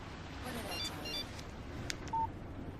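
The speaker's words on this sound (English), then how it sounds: "Text message from Barry" A short electronic phone text-message alert in the video game Alan Wake: a few quick beeping tones followed by a brief higher chime, quiet against faint background ambience.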